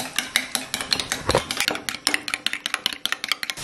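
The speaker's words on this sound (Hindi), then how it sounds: "और अब मैं इन अंडों को फेंट लूंगा" Desi eggs whisked in a bowl, a fast, close run of clinking metal strokes against the bowl's side, steady and rhythmic for a few seconds with no talking.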